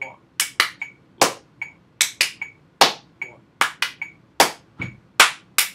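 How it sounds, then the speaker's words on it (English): A stomp-and-clap body percussion pattern at 150 beats per minute: sharp, close claps and stomps in a steady repeating rhythm, each hit ringing briefly before the next. "Stomp and clap at 150, part A."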